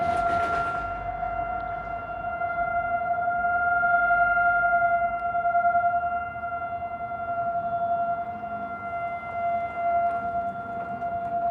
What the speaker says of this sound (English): Sorry for the siren, guys.